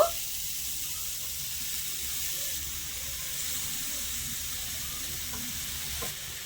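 Grated carrot with nuts frying in a pan for pitha, giving a steady, even sizzle with soft stirring scrapes throughout and no voices.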